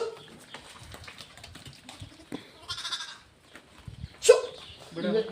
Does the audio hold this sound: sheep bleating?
yes